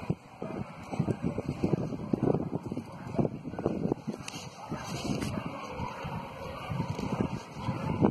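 Gusty wind buffets the microphone on a home balcony, a steady rushing roar with irregular swells and faint rustling, fairly close and continuous.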